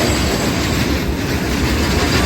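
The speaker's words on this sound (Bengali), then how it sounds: "মালগাড়িটাকে পাস করার জন্য আমাদের ট্রেন পাঁশকুড়ার কিছুটা আগে এসে প্রায় 10 মিনিট দাঁড়িয়ে" A goods train thunders past a passenger train halted near Panskura. The close, loud, continuous rumble is laced with wheel clatter and a thin metallic squeal.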